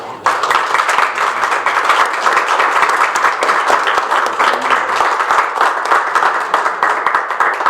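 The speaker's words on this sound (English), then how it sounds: "we should at least give them all a round of applause" Audience at a community forum applauding the panelists, a steady, dense wash of clapping from many hands filling the room at full strength throughout, with faint talk underneath.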